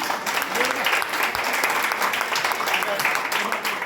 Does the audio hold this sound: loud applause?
yes